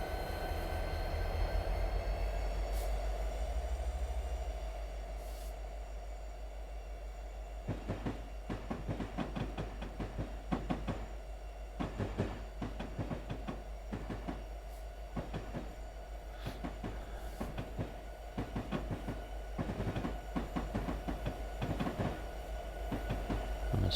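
A locomotive in the Train Simulator 2022 game rolls steadily along the track, with a constant low engine drone and a regular clickety-clack of wheels over rail joints that stays close and loud throughout.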